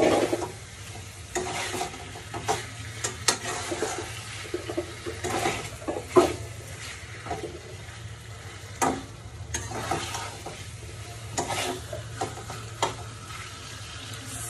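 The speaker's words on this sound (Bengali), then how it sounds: "মশলাটা ভালো মতো মিক্স করতে হবে" Chicken curry is stirred with a spice mix. Repeated scraping and clanking strokes of a spoon in the pot come at an irregular rhythm over a low, steady sizzle.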